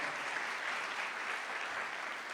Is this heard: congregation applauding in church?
yes